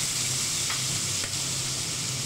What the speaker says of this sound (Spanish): Vamos a echar el tomate rallado valenciano tan tan rico y lo vamos a sofreír del mismo modo